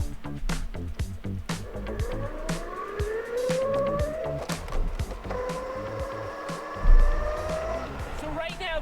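A Revo crowdfunded electric bike pedaled with its motor off makes a loud, whining drivetrain noise that rises in pitch with each push, over repeated rattling clacks and knocks throughout.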